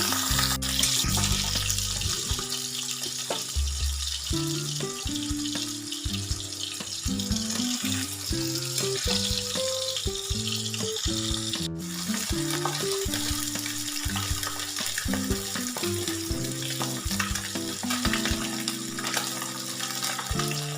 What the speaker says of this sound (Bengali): তেল গরম হয়ে গেছে, এবার মাছগুলো সব ভেজে নিচ্ছি।